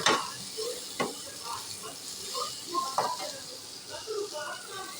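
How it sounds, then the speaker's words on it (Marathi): Food frying in a pan, a low hiss with intermittent sharp ticks and pops, fairly quiet and close, with speech-like murmuring mixed in. "आनी आमचें हे पळया फ्राय हांगासर जाता."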